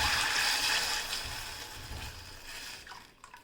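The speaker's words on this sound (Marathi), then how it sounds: "त्यामध्ये आपण आता हे शेवग्याचं पाणी घेतो" Drumstick cooking water is poured into a hot oil tempering with curry leaves and asafoetida, a loud hiss and watery rush that gradually fades and settles.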